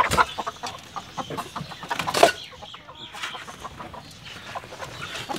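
Chickens on a rooftop chicken farm cluck and squawk in irregular bursts at close range, with scattered rustling and one louder squawk midway and no speech.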